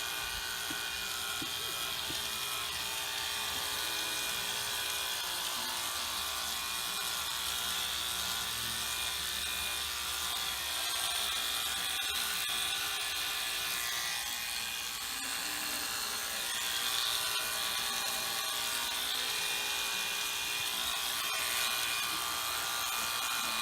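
Electric clippers trimming hair left after clipping an animal at a fitting clinic, a steady high buzzing motor hum that runs unbroken and fairly loud throughout.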